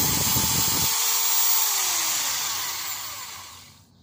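A newly delivered impact hammer drill runs briefly with a loud rattling hammer action, then the motor whine winds down in falling pitch and fades to quiet.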